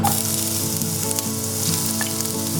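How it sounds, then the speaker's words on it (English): Garlic sizzling loudly as it goes into hot oil for a cream paneer dish, a steady close frying crackle with no pauses and no voices. "now the oil is hot and I'm gonna add the garlic first"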